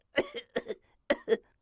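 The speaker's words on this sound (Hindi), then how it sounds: "खांस ले।" Two pairs of harsh coughs, the first pair close together, a brief pause, then the second pair, loud and near with no talking.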